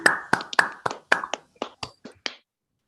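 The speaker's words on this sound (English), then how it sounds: "give Professor Hoffmann a hand of applause" A small online audience claps over open microphones after an academic talk: about ten sharp, separate claps at uneven intervals, close and fairly loud, thinning out and stopping within a few seconds.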